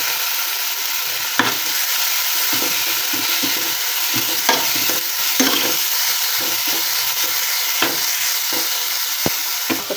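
Squeezed banana heart stirred in a hot pan, steady frying sizzle with scattered scraping clicks of the spoon, close and loud with no talk.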